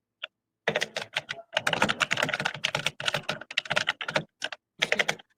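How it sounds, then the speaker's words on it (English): Fast, vigorous typing on a computer keyboard, close and crisp, with dense clattering keystroke bursts separated by brief pauses. "Oh, he's typing vigorously."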